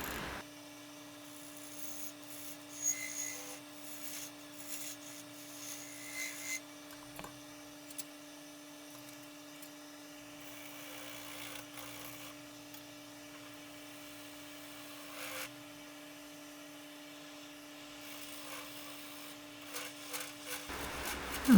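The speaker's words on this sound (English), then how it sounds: "this is the Easy Wood Tools carbide tipped, just working on the bottom" An Easy Wood Tools carbide-tipped tool cuts the bottom of a spinning wooden lamp piece on a lathe, giving a quiet, steady scraping rub over a constant motor hum that ends abruptly, with no voices.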